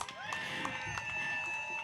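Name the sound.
crowd applauding and cheering at a rally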